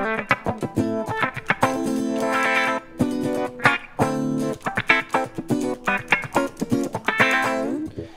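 Clean electric guitar run through an auto-wah effect in Ableton Live, set to 12 rather than 24, playing a busy phrase of plucked notes and sliding chords with a vocal, sweeping filter quality, close and alone with no talking.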